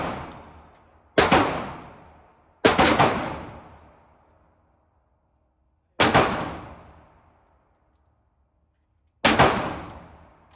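Four separate gunshots ring out one at a time at uneven intervals, each a loud sharp crack that trails off into a long decaying echo before near silence.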